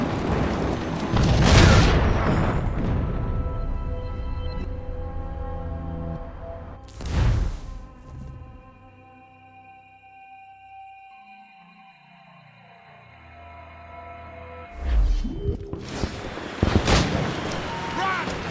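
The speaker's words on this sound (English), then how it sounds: "He'll destroy the manor! Mortars! Take cover!" Mortar explosions in Assassin's Creed Rogue: three heavy booming blasts, one early, one brief midway and one near the end, each ringing out over sustained orchestral game music, with voices shouting in between.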